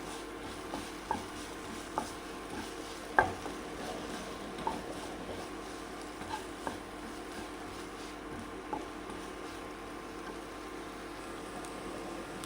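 Capsicum stir-fry with crushed pepper and a pinch of brown sugar being sautéed in a pan, a faint low sizzle under occasional spatula taps and scrapes, sparse and quiet.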